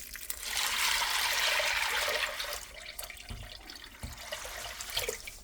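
Water poured from a tap into a cooking pot holding 2 cups of pinto beans, a loud steady rushing stream for about two seconds that then eases to softer trickles and clinks.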